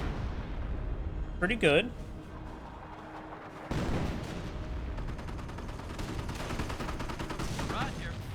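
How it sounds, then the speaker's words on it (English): Artillery barrage from 25-pounder guns in the Company of Heroes video game, a dense run of booming shots and crackling gunfire with a brief louder burst, a voice talking over the battle. "25-pounder barraging up here."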